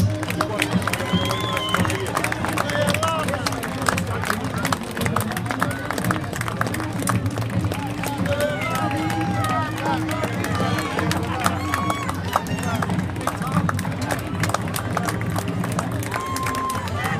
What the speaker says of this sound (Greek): Όλοι μαζί ένα θερμό χειροκρότημα,